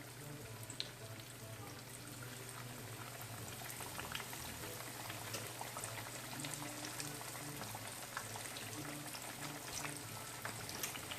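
Large, oddly shaped pork chops frying in a pan on high heat, a quiet, even sizzle with fine popping and crackling held steady throughout.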